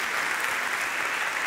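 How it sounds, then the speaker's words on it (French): Applause from a theatre audience at a live stage comedy show, a brief burst of dense continuous clapping. "On peut les applaudir, s'il vous plaît."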